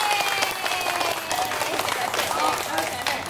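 Applause from a crowd at an outdoor inauguration ceremony welcoming a councillor, steady dense clapping for about three seconds with voices mixed in.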